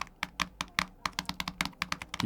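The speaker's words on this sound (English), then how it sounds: "That typing drove my wife crazy" Rapid clicky typing on a compact iPad keyboard, a steady stream of sharp taps and clacks recorded close up.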